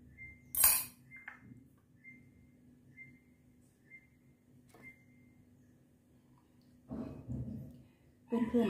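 A few soft clinks of dishes and a spoon as steamed rice is scooped into a bowl beside a Thai omelette, sparse and quiet over a faint steady hum, with a brief murmur of voice toward the end.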